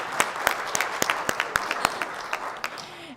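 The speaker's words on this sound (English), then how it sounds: "let's give her a round of applause for that" Scattered applause from a small audience at a spiritual talk, with individual sharp claps standing out distinctly over a softer background patter, fairly close and easing off toward the end.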